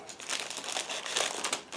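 Large plastic bag around a Miniart 1/35 T-60 Early model kit being cut open, a steady close crinkling and crackling of plastic lasting a couple of seconds, with no voices.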